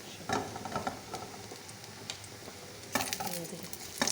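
Onions frying in homemade ghee for Punjabi sarson and bathua saag, giving a quiet, soft sizzle broken by scraping stirs and light clinks of a utensil against the pan in several short bursts.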